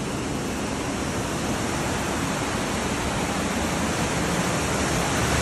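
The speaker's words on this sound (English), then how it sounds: "We had to come see the waterfall from the top." Waterfall near Mountain View, Arkansas, heard from the top: a steady, broad roar of falling water fills the scene evenly at close range, with no break and no voices.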